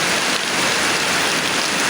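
Heavy rain pours steadily during a typhoon over rice fields, a dense, loud, unbroken hiss of downpour with no voices.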